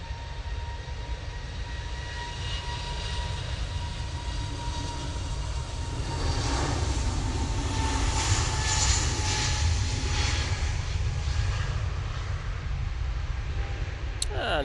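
An easyJet airliner passing at Manchester Airport, its engines a rising, swelling roar with tonal whine that peaks midway then eases, with a brief faint voice heard near the end.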